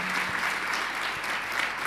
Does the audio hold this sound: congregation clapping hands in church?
yes